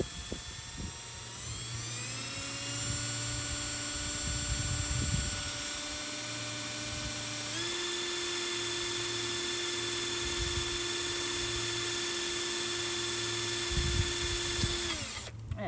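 A power drill drilling a hole whines steadily at high speed, its pitch shifting as it bites in, with a low hum underneath throughout.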